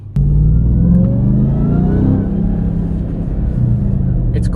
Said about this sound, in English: It's crazy how quick this truck gets up to even highway speeds or up to the speed limit.